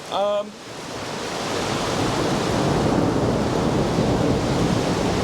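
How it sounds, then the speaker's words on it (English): Thunder during a lightning storm, a sustained low rolling rumble that builds and stays loud after a brief tonal blip at the very start. "Is there something scary about sitting in an electric vehicle in a lightning storm?"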